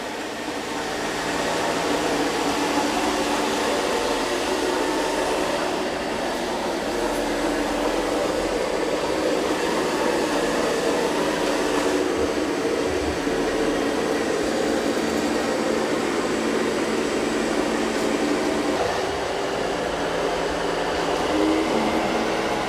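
An Eureka E10s self-emptying robot vacuum and mop running on a floor gives off a steady, loud broadband whir with a low rumble that holds evenly throughout, with no talking.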